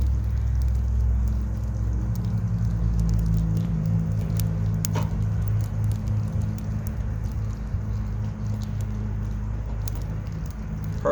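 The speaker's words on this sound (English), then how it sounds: "You can even hear the fire once it takes full effect." Campfire burning outdoors after small and larger fuel has been added, giving a steady low rumble with soft crackling pops throughout, continuous and close, with no talking.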